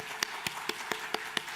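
A church congregation clapping during a Sunday service, a short run of about seven evenly spaced, fairly faint claps over a soft room hum.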